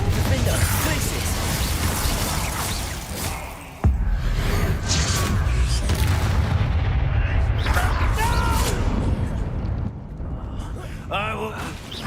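Booming spell blasts and whooshing impacts from combat in the Hogwarts Legacy video game, loud and continuous over a dense, rumbling game soundtrack, with brief voiced spell calls on top.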